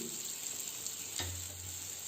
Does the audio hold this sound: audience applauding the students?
no